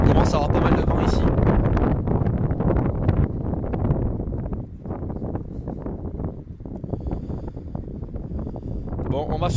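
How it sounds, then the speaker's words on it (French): Strong wind buffets the microphone outdoors near Palavas on the Languedoc coast in May, a loud, steady low roar with gusty surges throughout. "On commence à avoir pas mal de vent ici."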